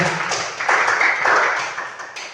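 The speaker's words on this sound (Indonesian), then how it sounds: "tepuk tangan untuk Bapak Ibu semuanya" Teachers and parents in a school training session give a short burst of applause, a fairly close, busy clatter of clapping that swells and then fades within a couple of seconds.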